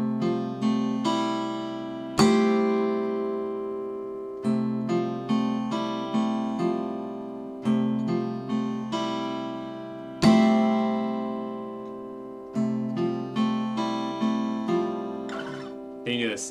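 Acoustic guitar in EADGCE tuning plays a repeating fingerpicked pattern, with slap harmonics landing as sharp percussive strikes every couple of seconds. Bright ringing notes follow each strike and decay, close and clear with no talking.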